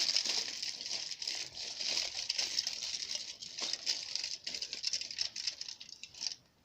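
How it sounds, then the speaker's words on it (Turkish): Aluminium foil crinkles steadily as it is wrapped over a flashlight, a close, continuous crackling rustle lasting several seconds before it stops. "El fenerine ilk önce alüminyum folyoyu böyle geçiriyoruz."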